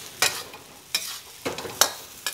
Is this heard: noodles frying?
yes